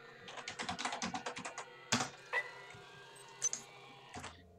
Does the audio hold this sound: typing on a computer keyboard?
yes